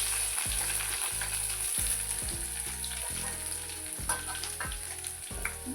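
Curry leaves and crushed garlic crackle in hot oil for an instant mango pickle, giving a steady, close sizzle throughout, with low tonal notes sounding underneath.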